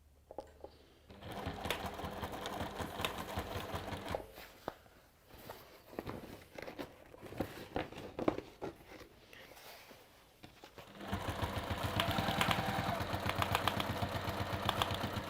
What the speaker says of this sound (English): So you can just hear we're stitching through that pelham stuff.